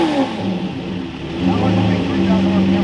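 A Koenigsegg twin-turbo V8 car engine revs and drones loudly, rising in pitch and holding steady, with faint voices underneath.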